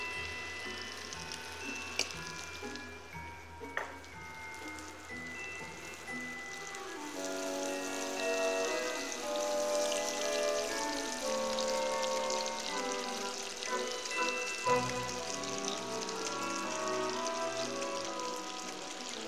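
Butter and dark brown sugar simmering down for toffee, a soft, steady bubbling and crackling that swells after a quieter opening, with a few faint clinks.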